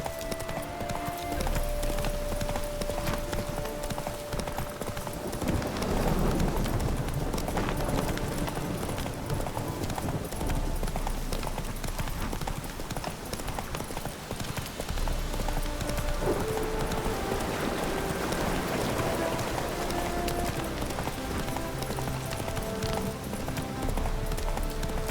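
Roach, the horse in The Witcher 3, gallops with a continuous rapid clip-clop of hooves, loud and close, layered over a busy game soundscape for the whole stretch.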